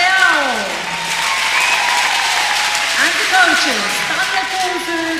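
Audience applause at a powerchair hockey world championship game between Italy and Switzerland, a steady wash of clapping under overlapping voices and crowd chatter in an arena.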